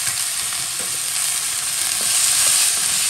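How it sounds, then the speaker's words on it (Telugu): Onions and potatoes with curry leaves fry in hot oil in a home kitchen, giving a loud, continuous close-up sizzle with faint stirring and no talk. "ఇలా ఆనియన్స్, పొటాటో వేయించుకోవాలి"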